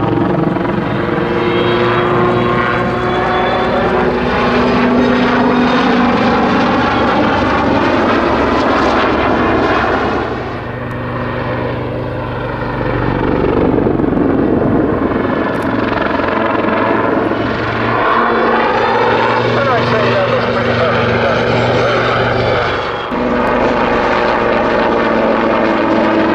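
An Army Lynx helicopter performs a back flip, its engine and rotor droning loud and continuous overhead, the pitch rising and falling as it climbs, dips briefly, then surges again.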